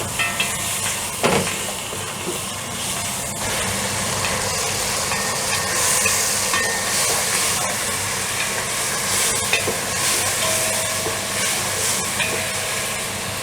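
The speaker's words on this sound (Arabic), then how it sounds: "وانزل الثوم والجنزبيل وبشر الليمونه، واشوحهم دول بقى كلهم كده مع بعض" Garlic, ginger and lemon zest sautéing with meat in a pan give a steady close frying hiss with occasional stirring scrapes, no voices.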